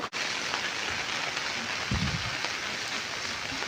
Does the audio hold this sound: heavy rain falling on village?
yes